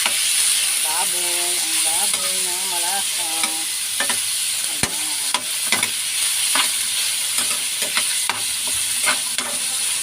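Pork adobo fries in a kawali with a steady, dense sizzle throughout, broken by scraping stirs and sharp clinks of a utensil against the pan.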